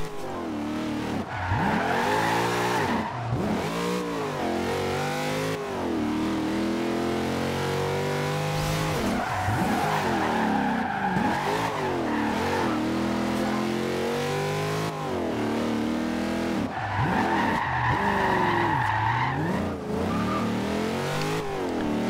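Corvette C7 sliding through a drift in the racing game Forza Horizon 2, its engine revving and rising and falling in pitch with tyre squeal, loud and continuous with no talking.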